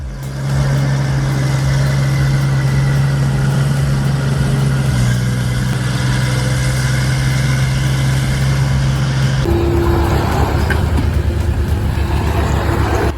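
A used U4E logging vehicle works through deep mud hauling a load, its engine droning loudly and steadily with a strong low hum that shifts pitch partway through, close and continuous with no talk.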